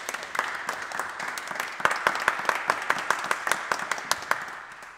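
A small audience at a Toastmasters talk applauds close by. The scattered claps settle into a clear, fairly even rhythm of individual hand slaps before tapering off.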